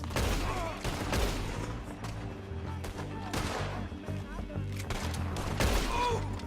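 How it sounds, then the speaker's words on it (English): Gunfire in Red Dead Redemption 2, a rapid fusillade of repeated shots with booming reports over a noisy background, fairly near and loud, with voices talking in between. "Told you I could shoot a gun, didn't I?"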